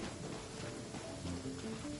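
Steady rain falls in the video game Genshin Impact, a continuous soft hiss with faint tonal game music underneath.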